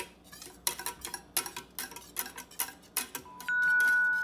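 A spoon scrapes and clinks against a bowl while sugar is mixed into thick Navajo blue corn mush, a steady run of sharp strokes up close, ending in a brief tone.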